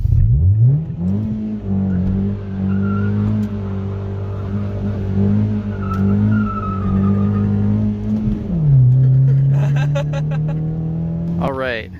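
Mazda2 fitted with Fiesta ST Recaro seats accelerating hard, the engine note climbing through revs, dropping at a gear change and rising again, loud and steady from inside the car.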